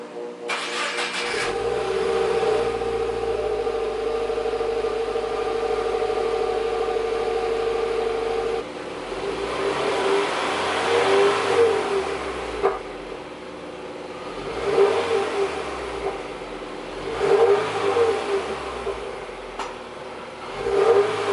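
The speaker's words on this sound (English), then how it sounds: "put some sound clips of what the car sounds like stock, with the stock mufflers on right now" A Subaru WRX on stock mufflers starts and idles, then gets revved in a series of repeated throttle blips that rise and fall, heard near and fairly subdued, with no talking.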